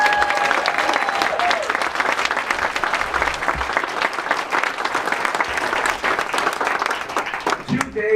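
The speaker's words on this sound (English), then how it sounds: "he deserves a great round of applause" Audience at a Mayfield High School 50th year reunion breaks into a sustained round of applause, dense clapping with cheers and crowd voices mixed in, fading toward the end.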